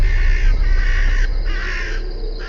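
Crows caw over and over in the Indian horror video game Bhangarh, loud harsh calls repeating against a steady ambient hum, with no talking.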